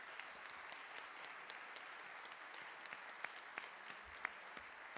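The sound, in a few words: town hall audience applauding the candidates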